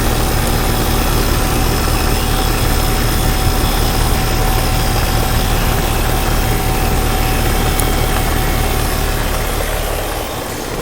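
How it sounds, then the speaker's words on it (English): A Federal Model 5A siren compressor runs steadily, a dense, loud mechanical whir and hum that holds constant for about ten seconds before easing slightly at the end, with no voices over it. "I love the sound of this compressor."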